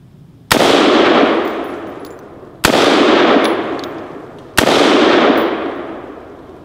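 Three loud AR rifle gunshots fired outdoors at a cinder block target, spaced about two seconds apart, each a sharp crack followed by a long ringing decay.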